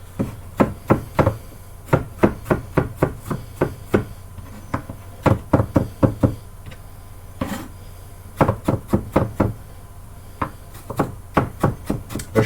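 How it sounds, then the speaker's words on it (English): A knife rapidly chops fibrous ginger on a board, finely mincing it. Crisp wooden taps come close and loud in quick bursts with brief pauses between runs. "So what we're doing here is I'm just finely mincing this."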